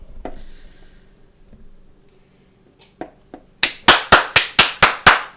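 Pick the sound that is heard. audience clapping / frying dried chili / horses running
audience clapping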